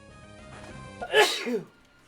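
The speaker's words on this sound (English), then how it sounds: "Sorry about the sneeze." A single sharp sneeze breaks out after a short quiet lead-in, close and loud, briefly peaking before fading, during a Pokémon game playthrough.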